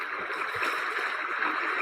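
Recorded flowing water playing as a background ambience, a soft steady rushing wash with faint gurgling, even and continuous, with no voice over it.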